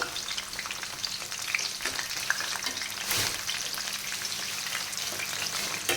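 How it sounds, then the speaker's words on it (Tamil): Masala-coated fish frying in a pan at home, a constant dense sizzle and crackle heard up close for the whole stretch, with one brief louder burst partway through and no voices. "வந்து பொன்னிறமாக பொரிஞ்சு வரட்டுங்க"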